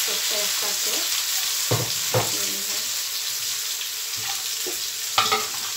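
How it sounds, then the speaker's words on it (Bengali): Fish fries in hot oil with onion, a steady sizzling hiss running throughout, broken by a few sharp scraping stir strokes against the pan. "মিক্স করে নিব দিয়ে নিছি পরিমাণ মতন তেল মাছ পেঁয়াজ"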